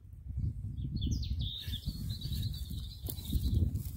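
Birds chirp and sing outdoors in a few short, high calls, fairly faint over a steady low rumble of wind or handling noise.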